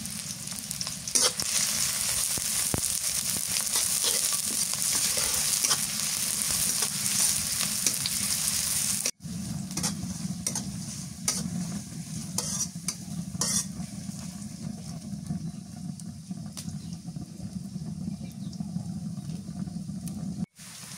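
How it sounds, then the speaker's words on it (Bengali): Chopped onions with bay leaves frying in a pan for a river fish curry, a loud continuous sizzle with stirring scrapes throughout, briefly cut off partway and then resuming slightly softer. "পেঁয়াজ ভাজা হয়ে গেছে"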